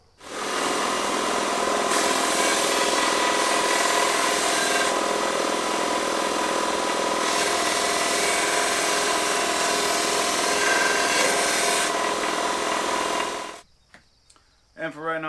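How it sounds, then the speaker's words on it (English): Belt sander grinding and smoothing the edges of a cut metal exhaust pipe piece meant for a Honda motorcycle, a loud, steady abrasive whine running continuously for about thirteen seconds before cutting off abruptly. "So onto the belt sander."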